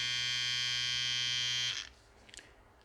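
A Kemei KM-5017 hair and body trimmer with tiny-gapped, blunt blades runs as a steady, close electric buzz, then switches off abruptly, leaving a few faint clicks.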